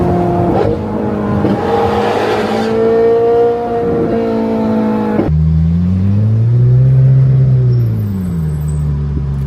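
Mercedes SLS AMG GT3 race car on a racetrack, its loud engine revving up and down through gear changes, a smooth rising and falling drone heard close and alone.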